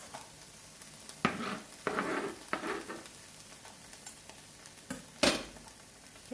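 Garlic and onions go into a hot pan and give off a soft, low sizzle. Now and then a spoon knocks and scrapes against the pan. No one speaks.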